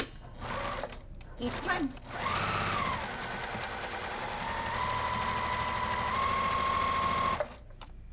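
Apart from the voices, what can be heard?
sewing machine chain piecing quilt blocks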